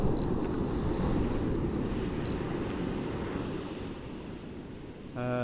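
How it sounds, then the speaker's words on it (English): Ocean surf rolling and breaking on a shoreline at dawn, a steady broad wash of water noise with wind, building toward a large wave as the surge fades slightly before a fresh rush near the end. "This is going to be a big wave"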